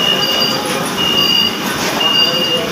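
Kolkata Metro train running, heard as a steady broadband rumble and rush of carriage noise with a few brief high electronic tones, and faint voices underneath.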